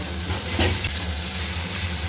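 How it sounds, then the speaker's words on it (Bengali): Steady sizzling of chicken gizzards frying in a little hot oil, a continuous close hiss with a brief stir in the middle. "এবার ভালো করে এটাকে ভেজে নেব।"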